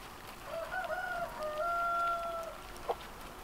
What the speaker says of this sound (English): You see the chicken up on the other chicken coop?